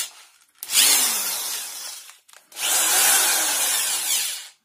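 A corded SKT Z1J-HW-10 electric screwdriver, at least four to five years old, whirs loudly in two bursts, the first about a second and a half long and the second about two seconds, separated by a brief pause.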